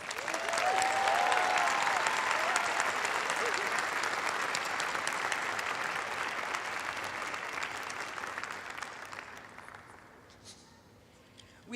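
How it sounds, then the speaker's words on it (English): A large crowd applauds at a college of public health and social justice precommencement ceremony, a full, sustained wash of clapping that gradually thins and fades toward the end. "Let's give them all a round of applause."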